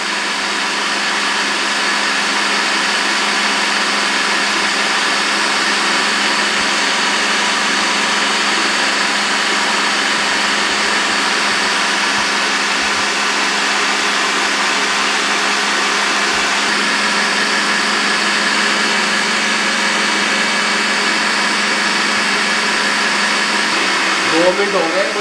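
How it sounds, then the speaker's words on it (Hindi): A mixer grinder running continuously while oil is streamed in to blend mayonnaise, a loud steady motor whine that holds without pause, with a voice talking over it. "लेकिन आप जूसर मशीन में बनाएं, ये जो बीटर से बनाएं या चॉपर में बनाएं, ये रुकना नहीं चाहिए"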